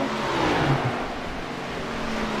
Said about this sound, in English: You can hear the car just slipping in the rear